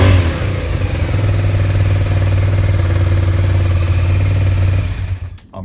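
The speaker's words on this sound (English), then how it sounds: "Getting the odd misfire, but I'm crediting that with dodgy sparks because they are old." A Suzuki SV650 motorcycle engine runs loud and steady close by, a deep V-twin drone with a faint uneven stumble from an occasional misfire, before cutting off abruptly near the end.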